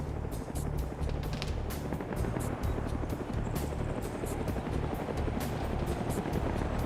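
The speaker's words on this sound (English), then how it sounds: "that chopper needs to fly low and then come back around" In a military video game raid, a helicopter flies low nearby, its rotor producing a loud, steady rhythmic thumping that fills the whole clip.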